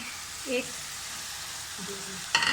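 Minced meat (keema) frying in a pan with browned onions, giving a steady, close hiss of sizzling throughout with faint stirring clinks near the end.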